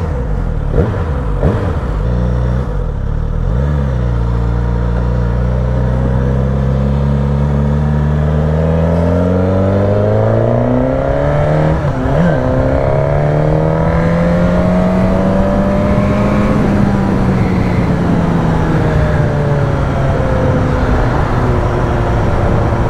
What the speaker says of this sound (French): aujourd'hui on teste la GSXS 950 bridée pour le permis A2 qui sonne très bien